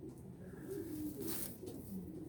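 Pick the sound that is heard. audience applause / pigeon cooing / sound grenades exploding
pigeon cooing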